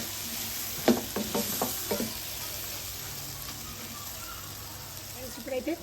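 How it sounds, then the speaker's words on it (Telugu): Goat tripe (boti) frying in a pan with tomatoes, a soft continuous sizzle with a few sharp knocks and stirring scrapes early on, heard close and moderately quiet. "మనం ఈ బోటి అంతా మంచిగా ఇట్లా మొత్తం ఫ్రై చేసుకుంటూ ఉండాలి"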